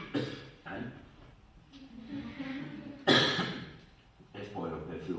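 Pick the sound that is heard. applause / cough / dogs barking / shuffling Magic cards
cough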